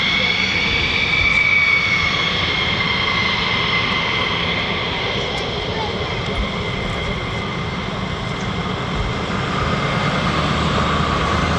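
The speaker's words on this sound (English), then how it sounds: "That's 2 F-15E Strike Eagles so far." Two F-15E Strike Eagle fighter jets take off at RAF Lakenheath, a loud continuous jet engine roar that stays steady and broad throughout, heard from outdoors near the airfield fence.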